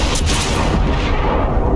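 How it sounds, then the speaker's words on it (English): Explosions in the video game Baldur's Gate 3 give a dense, loud burst of booming, crackling blast noise that fills the short moment without letting up. "I know the explosions are really annoying"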